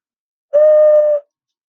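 A small clay whistle shaped like a sloth is blown once, giving a steady, clear, fairly loud tone with faint overtones that lasts under a second, with no talking.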